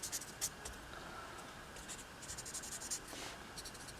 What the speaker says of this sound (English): just add a tiny bit more smudging around here